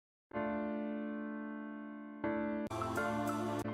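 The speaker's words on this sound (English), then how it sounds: "which is just a piano piece" Piano notes ring out with a long sustained tone, then a fuller, brighter chord enters near the end; instrumental only, no voices.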